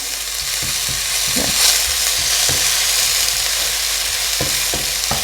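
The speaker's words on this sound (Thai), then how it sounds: "ถ้าไม่มีกระเทียมเจียวก็เจียวกระเทียมก่อนเลยจ้ะแล้วค่อย ผัดลากผักชี" Garlic and coriander root stir-frying in oil hiss with a steady, loud sizzle, punctuated by a few soft taps and scrapes of a spatula, heard alone without voices.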